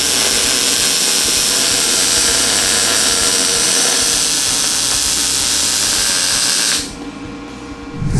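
Welding on a Polaris RZR UTV roll cage gives a loud, steady, close-up hiss for about seven seconds before the arc cuts off, leaving quieter room noise.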